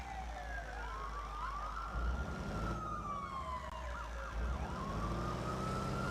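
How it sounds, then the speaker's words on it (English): A police boat in Watch Dogs 2, cruising San Francisco waters, sounds a loud continuous double siren, two wailing tones rising and falling over each other above a low engine rumble. "it's got like a double siren for some reason"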